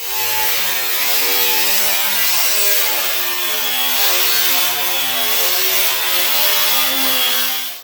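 A power tool cuts through a piece of sheet steel in one long continuous run, a loud, steady, high-pitched whine and buzz that holds for several seconds without a pause, close up and with no talking.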